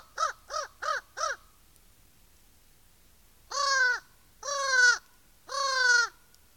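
Crows caw in a forest, first a quick run of four short, clipped calls, then after a pause three longer, drawn-out harsh caws, loud and fairly close against a quiet background.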